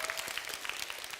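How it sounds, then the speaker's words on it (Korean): A brief, faint burst of scattered clapping from a small audience at a church youth-group service. "이런 거 박수 쳐줘야 되잖아요"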